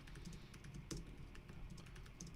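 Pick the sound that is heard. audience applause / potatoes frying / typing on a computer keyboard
typing on a computer keyboard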